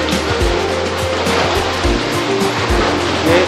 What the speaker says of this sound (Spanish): Escuchen el sonido del mar.